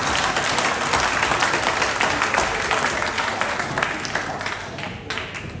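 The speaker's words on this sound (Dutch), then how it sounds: "Applaus voor wie heeft dat begrepen." Audience applause at a Dutch-language carnival evening show, dense and steady clapping filling the hall for nearly six seconds before gradually thinning toward the end.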